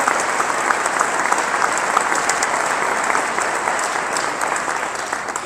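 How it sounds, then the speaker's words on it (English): A crowd of about 1,200 applauds at the Harvey Milk Diversity Breakfast in Coachella Valley, producing loud, sustained, dense clapping that fills the room evenly for the whole stretch. "A big round of applause and thanks to all of them for supporting our work this morning."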